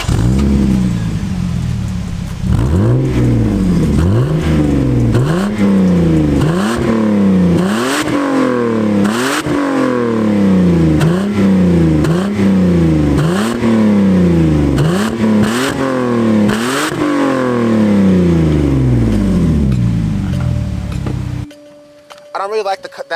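A first-generation Lexus IS 300 with an aftermarket exhaust revs hard again and again, loud and close, each rise and drop of the engine note coming in a steady rhythm before it cuts off abruptly.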